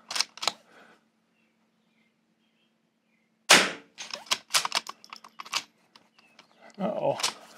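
Sharp rifle shots ring out at a precision .22 rifle match with steel targets, two early cracks, a pause, then a cluster of quick reports and metallic clicks, close and loud.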